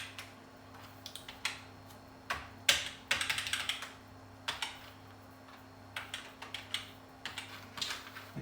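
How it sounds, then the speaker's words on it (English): Keys pressed on a Power Macintosh keyboard: a series of faint, close plastic clicks in short irregular bursts, some louder taps midway, over a low steady computer hum and no talk. "keyboard combo is not working"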